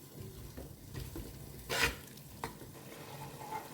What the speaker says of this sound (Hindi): हाई फ्लेम पे इसे मिक्स करना है।